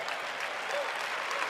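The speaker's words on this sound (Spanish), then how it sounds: "Dele más fuerte ese aplauso." A church congregation applauding during a sermon, steady dense clapping that fills the hall at moderate loudness with no break.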